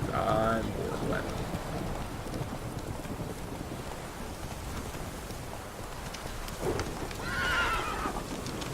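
In The Witcher 3 video game, the horse Roach whinnies at the start and again near the end, over continuous hoof clatter mixed with rain and wind.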